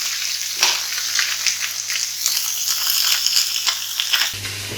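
Sea bass fillet frying skin-side down in a hot pan, giving a steady, close crackling sizzle with scattered pops throughout, no voices over it.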